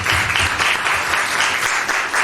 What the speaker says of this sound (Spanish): Un aplauso acá.